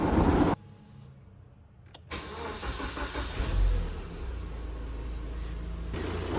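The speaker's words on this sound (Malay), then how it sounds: "kita buka dulu hood bonnet depan ni dan kita start engine kereta" A Proton Saga FLX engine cranks and catches, then settles into a steady idle, loud and close, likely with the bonnet open.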